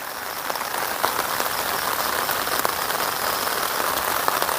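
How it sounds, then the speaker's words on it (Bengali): Light, steady rain patters evenly on surfaces in a village at dawn, a continuous soft hiss of drizzle with no voices. "গত রাত থেকে আবার সেই ঝিরঝির বৃষ্টি"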